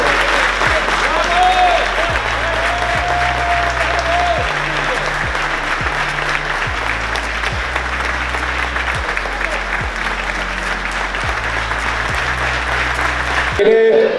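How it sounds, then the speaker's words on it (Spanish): A crowd at a Christmas biker gathering applauds loudly and continuously, with dense clapping, cheers and chatter, while a steady thumping beat plays underneath. "un aplauso muy fuerte para la madre que venga aquí"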